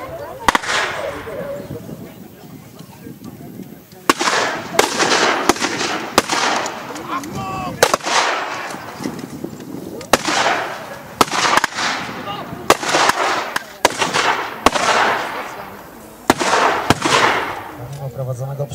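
Blank gunfire at a historical reenactment of the Battle of the Seelow Heights, with irregular sharp bangs and short volleys, some loud and close, over a constant background of crowd murmur and an announcer's voice.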